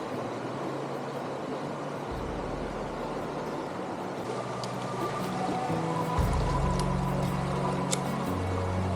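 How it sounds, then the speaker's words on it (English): Continuous rushing and splashing of water during a river crossing on the Hoh River Trail, loud and close, with low rumbling surges and wading splashes building toward the end. "That was a good splash."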